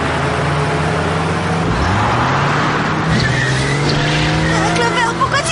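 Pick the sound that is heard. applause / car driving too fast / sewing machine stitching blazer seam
car driving too fast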